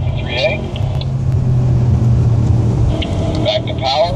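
An Audi S5 engine hums and rumbles steadily under light throttle on a lap of Sonoma Raceway, a low continuous drone inside the car with someone talking over it.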